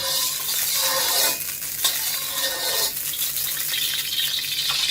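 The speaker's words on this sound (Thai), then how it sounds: "เราก็ใช้ทัพีนะครับ ให้น้ำมันกระจายไปทั่วๆกระทะนะครับ" Oil sizzles loudly in a wok over high heat while a ladle scrapes and stirs in sweeping strokes, spreading the oil around the pan, the hiss rising and falling with each pass.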